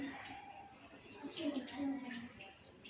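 Water runs and splashes as hands are rinsed at a tap, a steady close wash of flowing and trickling water, with people talking over it.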